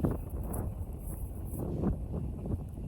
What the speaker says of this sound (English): It's so windy, hopefully you can hear me.